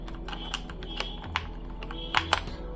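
Keys clack on a HUO JI Z-88 budget mechanical gaming keyboard with brown switches, a handful of sharp separate taps close by over a low steady hum, no talking.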